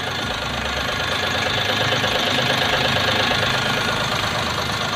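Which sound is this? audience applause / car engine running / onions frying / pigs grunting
car engine running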